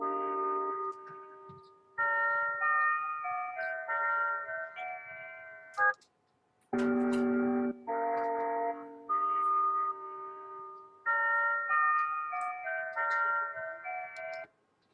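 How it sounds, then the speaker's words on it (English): An electronic tune built on a tritone, resembling an ice cream truck jingle, plays alone as clear synthetic tones in short phrases separated by brief gaps. "you listen to the sound, it's a Baal tritone"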